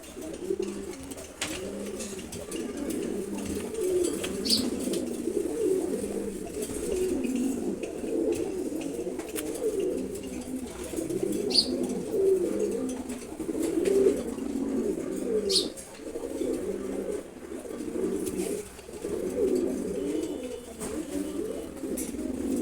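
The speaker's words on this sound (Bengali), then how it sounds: "খুবই চমৎকার একটা মাদি কবুতর, দেখেন ও খুবই ফ্রেন্ডলি" A pair of pigeons, one a calm female, coo steadily and continuously at close range, a dense rolling murmur with no talking over it.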